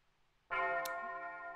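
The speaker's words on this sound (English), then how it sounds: "These are ominous bells." Ominous bells from the video game Revolutionary Girl Utena: Story of the Someday Revolution ring out suddenly after a near-silent moment, a loud sustained metallic tone with rich ringing overtones that hangs and slowly decays.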